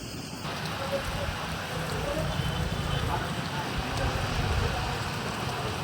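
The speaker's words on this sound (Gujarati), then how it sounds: "આપણે ભાવનગરમાં ફૂલ વાવાઝોડું ને બહુ વરસાદ આવે છે" Heavy rain pours down during a windy storm in Bhavnagar city, Gujarat, a steady close, dense roar of falling water that continues throughout.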